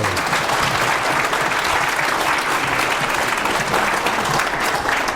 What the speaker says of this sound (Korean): 자, 박수 한번 치도 되는데, 그죠?